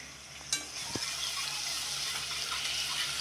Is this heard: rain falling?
no